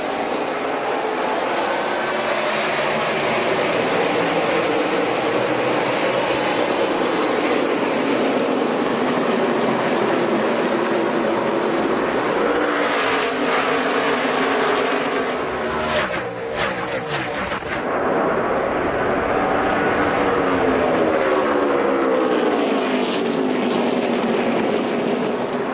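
NASCAR stock cars racing at the start of the 2012 Sylvania 300 make a dense, loud, continuous roar of many engines that swells and shifts as the pack passes, with no voices.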